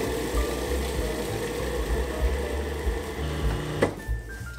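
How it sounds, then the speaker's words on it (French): A food processor blends chestnuts with a little water, its motor whirring in a steady, close drone before it cuts out near the end. "Je prends le cutter et je vais y mettre les marrons. Je vais mixer avec un petit peu d'eau."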